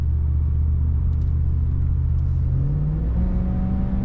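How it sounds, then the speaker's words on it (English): A 1990 Cadillac Brougham's 5.7L engine revs up under way, a steady low rumble that climbs in pitch through the second half, close and loud with no talking. "Good power from this engine."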